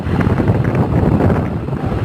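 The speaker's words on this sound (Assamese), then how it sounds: "আমি এতিয়া গৈ আছোঁ, বতাহৰ মাজেৰে গৈ আছোঁ। ইমান বতাহ ভালো লাগিছে" Strong wind buffets the microphone while travelling outdoors, a loud continuous roaring rush with no voices.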